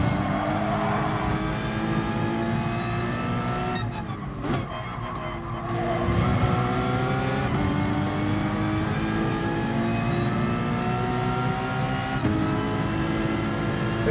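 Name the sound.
race car engine in video game Gran Turismo Sport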